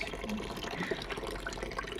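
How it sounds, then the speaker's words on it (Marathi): Water trickles slowly and steadily from a village tap, a continuous soft splashing flow with a faint voice in the background. "हे बघा खूप स्लो पाणी येतं"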